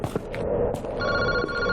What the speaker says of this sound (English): this is called a threatening phone call